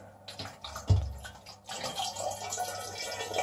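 Water splashing and trickling from a pulled return hose of a K40 laser cutter's cooling pump, a brief gush near the start followed by a steady running flow, fairly faint and close.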